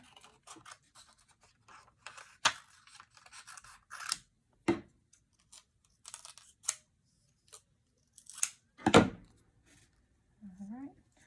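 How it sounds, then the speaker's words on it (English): Scissors snip through paper as small pieces are fussy cut, giving a series of crisp, close, separate clicks spaced irregularly across the clip, with a short quiet vocal sound near the end. "I'm just going to fussy cut these"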